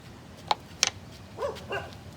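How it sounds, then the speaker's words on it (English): Two dogs, Roxy Ray and Bella Blaze, give two sharp barks at moderate distance, then a pair of softer whiny yips follow against a quiet room. "Our dogs say hi."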